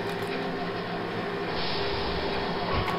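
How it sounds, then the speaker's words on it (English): A moving tram in the sci-fi video game Stars End gives a continuous rumbling, droning hum that holds steady and grows slightly louder partway through, with no voices. "I can slow the tram's movement down"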